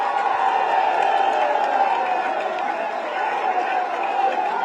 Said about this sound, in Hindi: आज सबकी तरफ से मैं चाहता हूं उनका भी जोरदार तालियों से आप स्वागत करें।